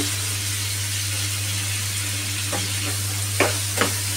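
Tomatoes with coriander seeds, tamarind and salt fry in a pan with a steady close hiss and sizzle, a constant low hum beneath and a few crisp stirring scrapes near the end.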